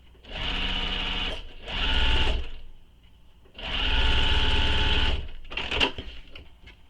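A sewing machine runs long basting stitches across a bag in three bursts, each a steady whirring rattle of a second or more with short pauses between, close and alone, ending in a few quick clicks.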